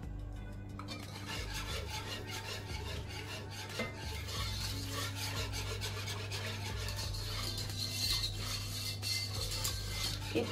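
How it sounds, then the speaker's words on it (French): Sauce being stirred in a pan: continuous close scraping and rubbing strokes in an even rhythm over a steady low hum, with no talking. "Et puis je vais mélanger comme ça jusqu'à ce que la sauce soit faite"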